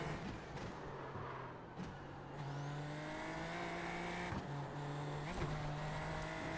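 A Super Formula Lights race car in iRacing at the Nurburgring GP, its engine droning steadily with rising pitch under throttle, a couple of brief shifts and sharp transients, no talking.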